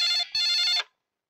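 A telephone rings in two quick electronic bursts, loud and close, then cuts off into silence.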